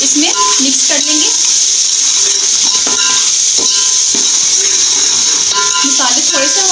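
Spices and salt being fried and stirred in a pot for mixed vegetable pulao, with a steady sizzle and hiss throughout and intermittent clinks and scrapes of a spoon against the pot.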